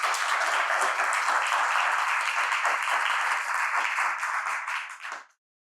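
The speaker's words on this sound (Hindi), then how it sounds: "क्यों ना ताली बजाएं परमेश्वर को" A church congregation claps together in steady, dense applause for several seconds, loud and close, then the clapping quickly tapers off and stops.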